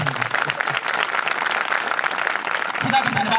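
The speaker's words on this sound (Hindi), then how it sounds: "एक बार हम ताली बजा करके भाई खड़े हो जाए," A congregation at a Christian meeting in Sitapur, Ambikapur claps hands together in a dense, steady applause, with a voice talking over it toward the end.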